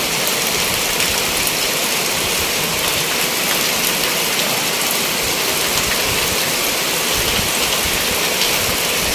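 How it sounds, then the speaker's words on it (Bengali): Heavy rain pours down steadily on a village in Shariatpur, Bangladesh, a dense, unbroken hiss of drops hitting surfaces with no pauses. "প্রচুর বৃষ্টি হচ্ছে আমাদের এখানে"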